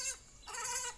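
A lamb gives two short, close bleats, the second longer and wavering.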